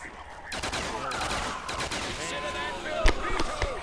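Gunfire in a first-person video game, dense overlapping shots with one sharp, louder burst near the end, mixed with game effects and voices talking over it.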